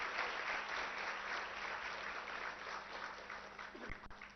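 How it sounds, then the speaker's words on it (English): An audience at an anniversary celebration event in a hotel gives a steady round of applause, a fairly faint, continuous wash of clapping that slowly tapers over four seconds, with a brief voice near the end. "I think she deserves a big round of applause from all of you."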